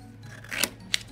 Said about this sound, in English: So I'm gonna be cutting with my scissors